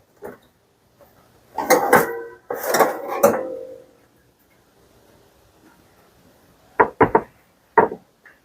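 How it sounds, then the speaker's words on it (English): A metal cookie sheet of hamburger buns comes out of the oven: a few clattering metallic knocks and scrapes, then silence, then three sharp clanks from the pan being set down or handled. "Let's get them out of the oven."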